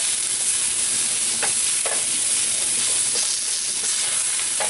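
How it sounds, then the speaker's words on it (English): Carrots sizzle steadily in a pan with garlic and ginger, a loud continuous frying hiss broken by several soft scraping stirs, close and without talk. "Just going to give them another little stir here."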